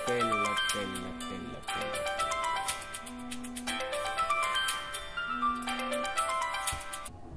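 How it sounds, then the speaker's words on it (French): A phone ringtone plays in repeated melodic bursts, fairly prominent over a busy background of music and voices. "le téléphone a sonné quelque part"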